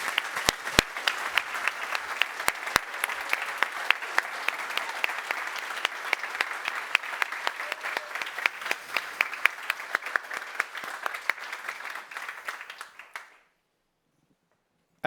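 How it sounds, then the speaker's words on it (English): Audience applause at the Neos Award ceremony, a sustained crowd clapping with sharp individual claps, holding steady and then stopping abruptly into silence. "This is your applause."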